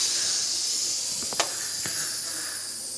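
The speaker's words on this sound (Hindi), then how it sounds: "जब इसका प्रेशर अच्छे तरीके से ख़त्म हो जाएगा उसके बाद आपने इसे खोलना है।" A pressure cooker of beef karahi vents steam as it is opened, giving a steady, loud, close hiss that fades slightly toward the end, with a few faint metallic clicks partway through.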